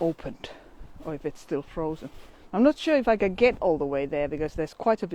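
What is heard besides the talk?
No everyday noise stands out behind the speech.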